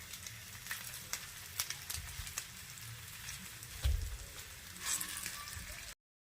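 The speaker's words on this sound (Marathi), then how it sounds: "मीठ आपलं लावून घेतलं आणि मस्त फ्राय करतो" Quiet, steady sizzling of salted paneer frying in a pan, with occasional soft clinks and stirring noises.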